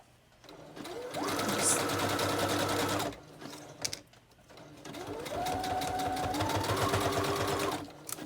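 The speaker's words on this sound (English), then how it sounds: "stitch down the middle, make sure that I get all of the layers stitched together." A sewing machine stitches layers of paper strips together in two steady, close runs of rapid needle chatter, with a short pause between them.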